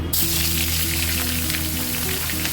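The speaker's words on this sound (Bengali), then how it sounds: "একটু নুন দিয়ে আর একটু হলুদ দিয়ে লাল লাল করে ভেজে তুলে রাখবো" Cut eggplant sizzles in leftover hilsa-frying oil with salt and turmeric, a loud, continuous close-up crackle with a low steady hum beneath, starting abruptly and running without pause or speech.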